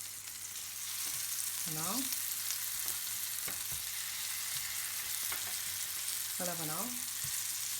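Plum quarters cook in a pan with butter, giving a soft, steady sizzle close by, while a person speaks briefly over it.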